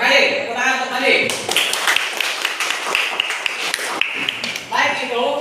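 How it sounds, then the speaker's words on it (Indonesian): Students in a classroom clap for a classmate, a short burst of close, fairly loud clapping with speech before and after it. "Tepuk tangan untuk Andi."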